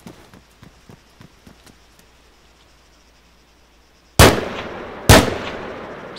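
Two loud, sharp shots from a modded rifle in the video game Arma III ring out near the end, each trailing into a decaying echo, after a stretch of faint, evenly spaced clicks.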